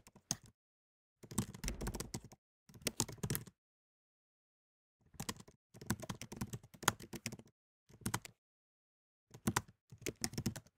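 Fingers type on a computer keyboard in several quick bursts of close, crisp key clicks separated by short silent pauses, heard alone without talk.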